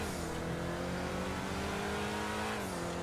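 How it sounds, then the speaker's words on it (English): Grotti Itali Classic sports car in GTA Online, engine droning steadily with a high supercharger-like whine layered over its harmonic tone, rising slightly near the end, loud and continuous with no talk. "It kind of sounds a little bit like it's supercharged in a way. Like, that whine is super cool."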